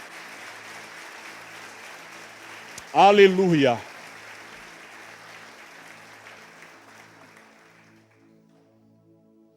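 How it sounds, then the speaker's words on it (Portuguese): A church congregation applauds the Lord with soft, diffuse clapping that gradually fades away. A voice briefly shouts out over it partway through. "Pode aplaudir ao Senhor."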